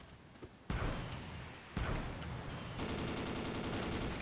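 Gunfire in the blocky shooter game Ace of Spades: loud sharp shot blasts followed by a rapid continuous rattle of automatic fire, close and dense, with no talking.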